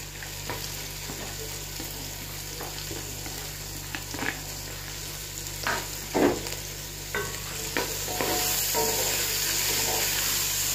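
Colored bell peppers, onion and garlic stir-frying in a hot pan with other vegetables: a steady bright sizzle and hiss with scraping stirs and clinks of the spoon throughout, close and continuous.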